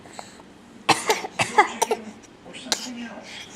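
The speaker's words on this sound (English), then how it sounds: "Oh, Mommy's got a bad cough." A woman coughs in a quick series of several sharp, close hacks, followed by softer throat sounds, with some voice and mild background noise around it.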